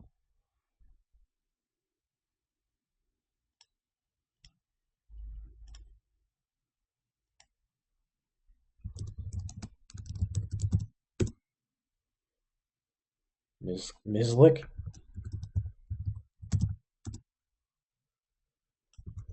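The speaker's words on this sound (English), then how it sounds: "You click on the card" Sparse mouse clicks during a Yu-Gi-Oh! Duel Monsters Genesis digital card game, Chronomaly versus Cyber Dragon, come as small scattered bursts of faint ticking separated by long quiet gaps.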